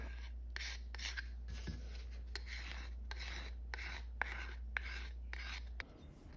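Repeated back-and-forth strokes of 220-grit sandpaper over epoxy-coated red oak, a rhythmic rasping scrape, close and steady over a low hum, with no talking.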